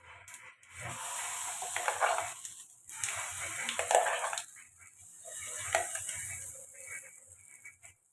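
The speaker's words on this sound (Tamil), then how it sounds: "கடுகு பொரியட்டும் கொஞ்சம் உளுத்தம்பருப்பு உளுத்தம்பருப்பு சவக்கட்டும்" Mustard seeds and urad dal splutter in hot oil as a tempering for radish chutney, crackling and popping in several separate spells of sizzling bursts, fairly quiet with pauses between them.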